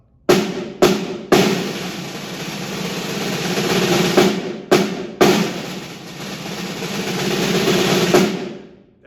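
A snare drum plays buzz rolls through the first two measures of the sixth line of a percussion audition exercise, as dense sustained swells that build in volume and are punctuated by sharp accents and short breaks; no talking.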